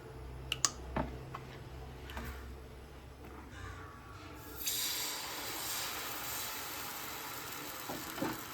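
Oil added to a hot dosa griddle: after a few faint taps and clicks, a broad hiss starts suddenly partway through and keeps sizzling steadily at moderate volume, close by.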